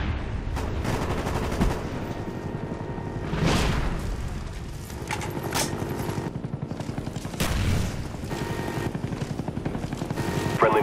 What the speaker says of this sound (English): Napalm strike coming in hot.